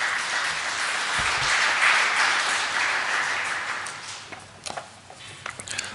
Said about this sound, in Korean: 이 하나님께 아름다운 찬양 올려준 우리 한나 여성교회에게 큰 격려의 박수 부탁드립니다